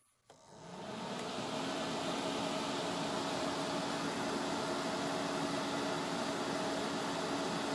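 Outback power inverter charger in a 48-volt off-grid home solar system switching on with a click, then its fan spinning up into a steady, even whoosh that runs continuously with no speech.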